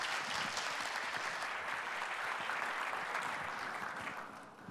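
Audience members at a medical congress on smoking and COPD applaud together, a steady patter of many hands in a hall that carries on evenly before thinning out at the end.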